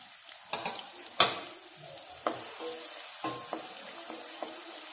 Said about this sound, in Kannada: ಎಣ್ಣೆ ಬಿಸಿಯಾಗಿದೆ ನಾನು ಈರುಳ್ಳಿ ಹಾಕ್ತೇನೆ ಒಟ್ಟಿಗೆ ಕರಿಬೇವು ಸಹ ಹಾಕ್ತೇನೆ